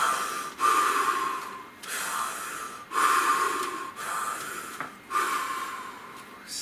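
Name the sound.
deep cyclic breathing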